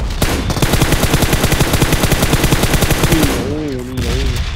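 Rapid automatic machine gun fire from the PUBG video game, a loud continuous burst of dense shots, followed by a voice talking near the end.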